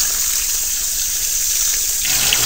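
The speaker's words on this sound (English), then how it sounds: "Wash through now, all that dust and stickiness that you get with rice" Running water pours steadily from a kitchen tap as basmati rice is rinsed underneath, a continuous close broadband gush with a slight change in the splashing near the end, with no voices.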